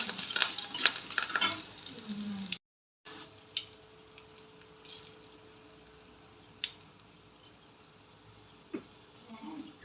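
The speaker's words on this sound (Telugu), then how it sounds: "పచ్చిమిర్చి వేసుకోవాలి, కరివేపాకు వేసుకోవాలి, ఇంగు కూడా వేసుకోవాలి. ఒకసారి కలుపుకోవాలి." Green chillies, curry leaves and asafoetida hit a hot pan for banana flower dal, first a loud crackling sizzle, then after a brief cut a quieter stretch of scattered stirring clicks and scrapes.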